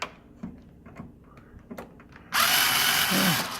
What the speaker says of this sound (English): It's going to be a little mount right here you want to unscrew as well, right about there.